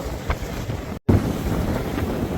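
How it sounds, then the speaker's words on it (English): A sailboat under sail on open water, with steady wind buffeting the microphone and broadband water and hull rush throughout, loud and close, briefly cut by a short dropout. "Lots of sailing."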